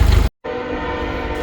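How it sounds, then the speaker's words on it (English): A train passes nearby with a loud, steady rumble and a sustained horn-like tone; the sound cuts out briefly before the roar resumes. "had to wait for the train to go by"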